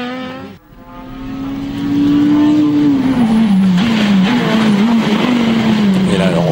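Nissan 370Z rear-wheel-drive rally car at a tarmac rally, engine revving loud and close as it accelerates and slides through a corner, with tire squeal and a steady high engine note.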